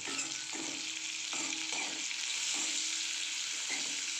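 Green chillies frying in a pan for a green chilli fry, with a steady loud sizzle and repeated scraping stirs of a spatula at a regular rhythm, close up and without voices.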